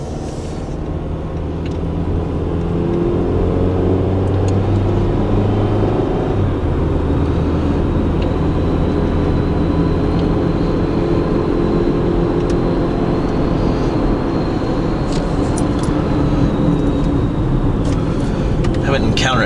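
A car engine hums steadily, close and loud inside the cabin, on the drive up Black Mountain road in Kentucky, with road rumble throughout and someone speaking at intervals.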